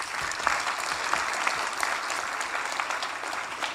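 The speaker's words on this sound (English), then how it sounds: "Let's give her a round of applause" A hall audience at a political gathering gives a sustained round of applause, a steady even wash of many hands clapping close and loud, with no voices over it.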